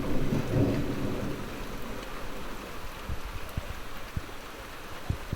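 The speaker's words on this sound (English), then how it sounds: "And abruptly the thunder stops for a while" Thunderstorm in north-west England on a summer evening: a low rumble of thunder swells early and fades, with steady rain throughout and a few sharp raindrop taps near the microphone.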